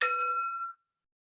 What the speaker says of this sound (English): So I'll use a gong that I have here. This is a little like meditation bowl.